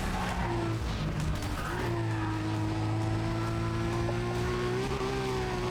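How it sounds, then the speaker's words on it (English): A Nissan Skyline Nismo in Need for Speed ProStreet, its engine holding a loud steady whine while tires squeal and skid, the pitch climbing slightly toward the end with no talk over it. "I'm driving a Nismo"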